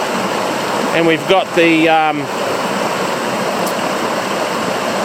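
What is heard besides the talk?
river water flowing around rocks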